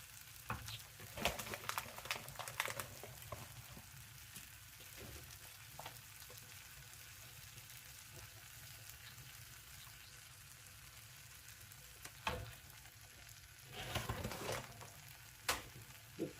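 A spicy tomato and jalapeno dish with cheese sizzles and fries steadily in a pan, with occasional stirring clatter and louder crackling bursts.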